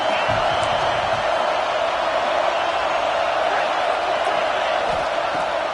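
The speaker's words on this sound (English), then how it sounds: "This crowd rising up, sensing that its defense needs some help." Stadium crowd in the college football video game NCAA 26, a steady dense roar of many voices filling the whole stretch with a few faint whoops, loud and continuous without clear peaks.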